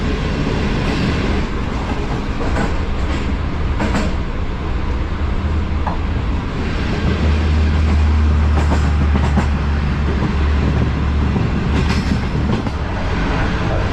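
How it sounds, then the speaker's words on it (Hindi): A train running through Gujranwala railway station on the down line, heard from the guard's compartment: a loud, continuous rumble with rhythmic clickety-clack of wheels over rail joints, swelling midway, with no talking. "अभी गुजरांवाला रेलवे स्टेशन से पास थ्रू हो रही है 6 डाउन लाइन"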